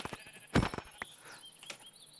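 Sheep bleating in Minecraft, one clear bleat near the start followed by a couple of fainter short blips and chimes, quiet and close with no talk.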